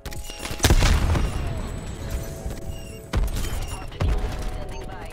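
The War Machine grenade launcher in Call of Duty: Black Ops Cold War fires three heavy, booming blasts a second or more apart, each trailing off into a rumbling roar of battle noise.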